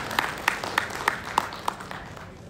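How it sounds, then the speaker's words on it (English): Sparse clapping from an audience at an investor summit, about seven distinct claps spaced evenly and fading slightly, fairly close in a large room. "They deserve a good round of applause. Please give them a good hand."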